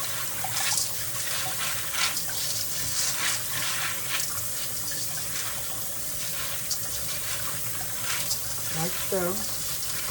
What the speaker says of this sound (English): Rinse them really good.